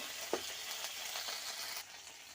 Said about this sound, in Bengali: তারপর তেলে যখন মশলাটা দিই তখন ছিটকে ছিটকে লাগবে